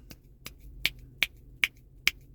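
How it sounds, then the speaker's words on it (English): Six crisp finger snaps in an even, unhurried rhythm, close and clear against a quiet background, the later snaps louder and sharper than the first ones. "I can snap my fingers now."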